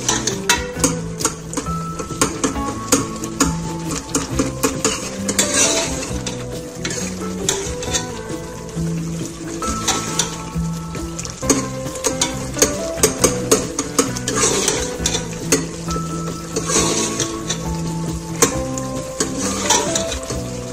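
Beef and chana dal stir-fry in oil with spices in a pan, restaurant style, with a steady sizzle, scraping and clinking of a spoon or spatula against the pot, continuous and close with no talk.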